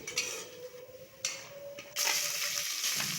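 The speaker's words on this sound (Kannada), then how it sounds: "100 ಗ್ರಾಮ್ ಎಣ್ಣೆ ಹಾಕಿ ಅದಕ್ಕೆ ಚಕ್ಕೆ ಲವಂಗ ಪಲಾವ್ ಸಾಮಾನುಗಳನ್ನು ಹಾಕಿ ಚೆನ್ನಾಗಿ ಲಘುವಾಗಿ ಹುರಿಯಿರಿ." Cinnamon, cloves and pulao spices fry in oil inside a pressure cooker on a gas stove, a quiet sizzle with a few utensil clinks before it swells into a brighter, louder hiss.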